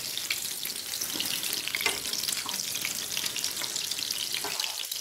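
Eggplant slices fry in an oiled pan, a dense, steady sizzle and crackle heard up close and fairly loud throughout, with faint occasional clinks. No one speaks.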